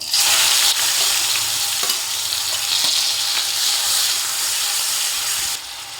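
Onion fries in hot oil with fenugreek seeds, asafoetida, turmeric, bay leaf and garlic for a red pumpkin curry, making a loud, steady, close hissing sizzle that runs throughout and eases slightly at the end.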